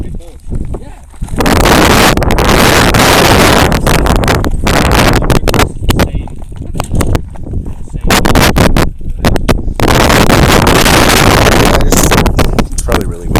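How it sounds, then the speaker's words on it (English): Strong wind buffets the microphone throughout an outdoor tour, roaring in broad loud gusts with brief lulls, while people talk nearby. "It's probably really windy."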